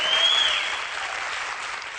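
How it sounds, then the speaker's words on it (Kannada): Loud, dense applause from a studio audience on a Kannada television dance show, sustained and fairly steady across the whole stretch with no talk over it. "ಒಂದು ಜೋರಾದ ಚಪ್ಪಾಳೆಯೊಂದಿಗೆ ಯೋಗಿಗೆ ಥ್ಯಾಂಕ್ಸ್"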